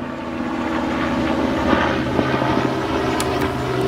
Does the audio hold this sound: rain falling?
no